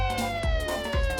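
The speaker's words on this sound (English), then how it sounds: "I can hear police sirens closing in" Police car sirens in a story game sound effect, a loud, near wail with steady pitched tones pulsing twice in quick repeating rises over a short burst.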